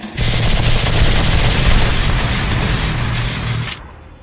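Rapid automatic fire from a P18C pistol in PUBG rattles in a loud, continuous burst lasting several seconds, then cuts off abruptly.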